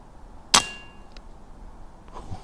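A single sharp, bright crack as a Kral Puncher Marine .177 air rifle fires when the trigger is pulled, followed by a faint metallic ring and then quiet.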